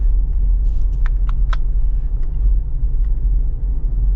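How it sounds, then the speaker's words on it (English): A 2024 AEV Wrangler JL370 4xe on 37-inch tires cruising, its small 4-cylinder engine and tire roar forming a loud, steady low rumble heard from inside the cabin, with a few faint clicks. "the little 4-cylinder engine's louder than the tire noise"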